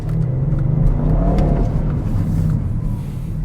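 The V8 exhaust of a 2023 Audi RS6 Avant revs loudly and continuously, a deep throaty rumble swelling and easing with no talking.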